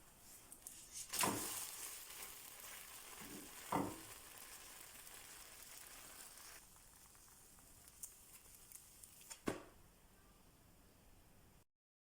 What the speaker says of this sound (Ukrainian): смажимо млинчики на середньому вогні